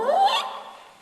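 A voice imitates a very squeaky door swinging open, a single rising, creaking squeal lasting about a second, close and clear, fading out at the end.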